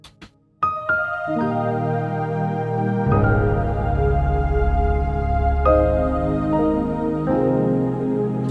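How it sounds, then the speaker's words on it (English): Piano chords ring out over a warm, sustained synth pad, with new chords entering every couple of seconds in a slow progression. "And with the piano, it's going to sound like this."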